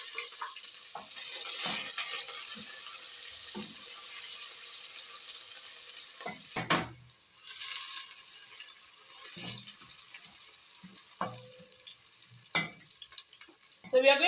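Onions fry in hot salad oil in a saucepan for a vegetable stew, a low continuous sizzle broken by occasional stirring clatters and utensil knocks, fairly quiet.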